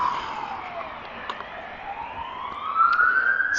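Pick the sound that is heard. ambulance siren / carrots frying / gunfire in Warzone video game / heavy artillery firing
ambulance siren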